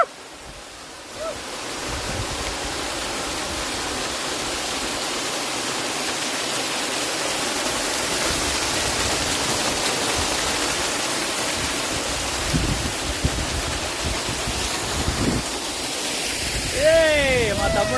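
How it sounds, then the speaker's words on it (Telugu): Kethenahalli waterfall near Bangalore, a steady broadband roar of falling water that holds close and loud throughout, with a few faint clicks and a brief higher tone near the end. "మనం మెయిన్ ఫాల్స్కి వెళ్ళేటప్పుడు మనకు ఒక చిన్న ఫాల్స్ అయితే తగులుతుంది."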